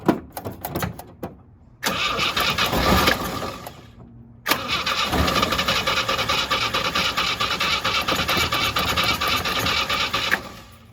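A 1967 Jeep CJ5A with a Dauntless V6 engine cranks loudly in two long rhythmic starter bursts, the second catching into a rough, pulsing idle that runs several seconds before cutting off.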